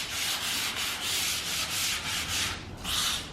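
Hand sanding of blue pine shiplap boards, done very lightly along the grain: steady rhythmic back-and-forth rubbing strokes, about a dozen passes, close and soft, with no talking.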